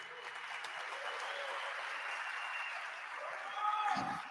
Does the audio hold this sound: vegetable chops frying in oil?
no